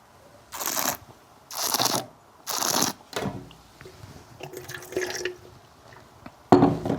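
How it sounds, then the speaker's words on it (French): A wine taster gurgles air through a mouthful of wine in three close, bubbly slurping pulls, followed by quieter liquid swishing and a final short slurp. "Tu prends une gorgée, tu fermes la bouche, tu penches la tête en avant et tu aspires un peu d'air"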